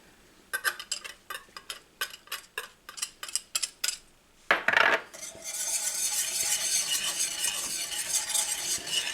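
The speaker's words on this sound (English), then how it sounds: "I'm going to add in my egg." A whisk or spoon stirring chocolate pie filling in a bowl as an egg goes in, rapid rhythmic clicking strokes, then a brief scrape and a steady hissy swishing mix, close and with no talk.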